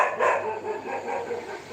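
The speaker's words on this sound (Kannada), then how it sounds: "ನಾಯಿ ಬೊಗಳ್ತಿದ್ದೆ." A dog barks at home in a short, fairly close burst that trails off into softer yelping within under two seconds, with no talking over it.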